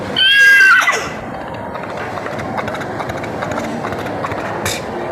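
A teenage mimicry artist imitates a horse with his voice: a loud, shrill whinny first, then a quicker run of rhythmic, clicking hoofbeats carried on at a steady gallop pace.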